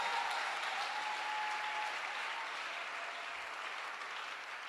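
A church congregation claps together in steady sustained applause, a dense even wash of many hands at moderate distance, with a faint tonal hum early on.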